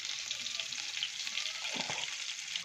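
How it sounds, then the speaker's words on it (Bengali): Boiled potatoes frying with a little salt in oil in a pan, a steady close sizzle with a brief stir or scrape near the end and no talk. "একটু নুন দিয়েও ভালো করে সেদ্ধ করা আলুগুলা ভেজে নেব।"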